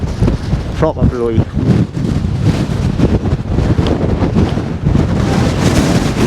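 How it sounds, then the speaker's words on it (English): Fierce wind of roughly 40 mph gusts across an exposed crag campsite in Northumberland where a tarp and bivy are pitched, roaring and buffeting loudly and close against the microphone throughout. "I think it's got to be about 40 odd mile an hour winds this, but yeah, it's proper blowy."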